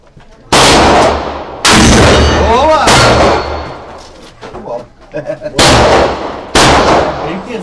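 Pistol shots ring out in what seems an outdoor shooting session: several very loud, heavy reports with long reverberant tails, spaced about a second or more apart, with people talking between them.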